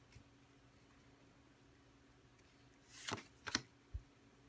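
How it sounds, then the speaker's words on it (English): Pokemon trading cards being slid and moved aside: brief papery swishes and snaps close by after a quiet stretch, two quick rustling bursts followed by a soft tap. "Move these cards out of the way."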